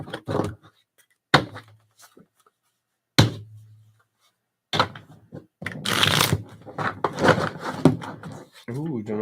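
Several bursts of cards being riffled and shuffled, sharp snaps with pauses between, then a longer run of riffling and handling.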